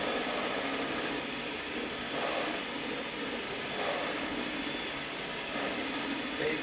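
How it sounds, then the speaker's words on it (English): Electric mixer on slow speed whisking egg whites for a lemon cake, a steady close motor whir with a faint rhythmic swish of the beaters, moderately quiet and continuous. "It's quite therapeutic, whisking egg whites."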